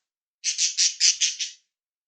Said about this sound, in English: Bird's angry.